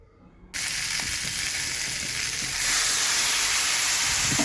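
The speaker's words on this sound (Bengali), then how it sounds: "এরপরে হালকা জল গরম দিচ্ছি একদম অল্প পরিমাণে মশলার সঙ্গে সবজিটাকে কষিয়ে নেব" Vegetables for Bengali shukto sautéing with spices in a hot pan, a loud, close, continuous sizzle that starts abruptly after a brief quiet moment and swells slightly toward the end.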